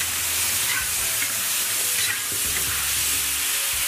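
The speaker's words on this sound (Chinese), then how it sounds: "豆角窝窝下去， 大火多炒一会儿" Beans stir-fry over high heat in a wok with a dense, continuous sizzle, broken by the quick scrape and toss of stirring.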